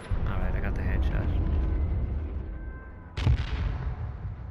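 Gunfire in the H1Z1 video game: a burst of shots and a sharp loud crack near the end, set against a rumbling background mix, with a player talking over the action.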